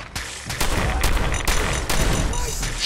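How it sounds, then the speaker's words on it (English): Fallout 4 combat with many people shooting at once produces a dense, loud, continuous barrage of overlapping gunshots, with sharper cracks standing out from the steady roar. "There's chaos everywhere and a lot of people shooting."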